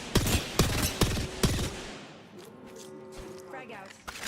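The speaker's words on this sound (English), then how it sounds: "Getting shot at." Gunfire from an online shooter game, several sharp loud bursts in quick succession at the start, then fading into a busier mix of game effects and tones, with people talking over it.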